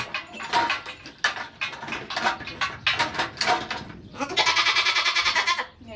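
Skittish goat bleating repeatedly while being handled for hoof trimming on a homestead, loud and close, in a series of bursts with a longer sustained cry near the end; no talking.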